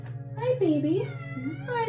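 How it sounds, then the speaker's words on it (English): A pet cat meows in a few drawn-out, rising and falling calls close by, layered with a steady low hum while a person speaks softly to it. "that's my cat."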